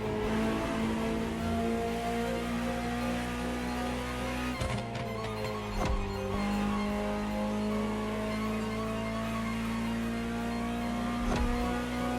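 A Ferrari supercar engine in The Crew Motorfest video game hums steadily, rising and falling in pitch as it revs and shifts, loud and close, with no talking.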